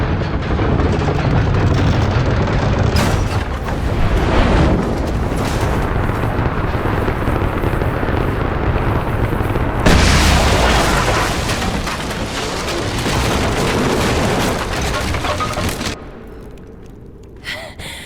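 In the Rise of the Tomb Raider PC game, on The Lost City level, a loud booming explosion follows a shot and rumbles on through the whole stretch, with heavy sustained blasts and no talking.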